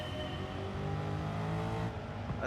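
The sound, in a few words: Dodge Demon car engine in Gran Turismo video game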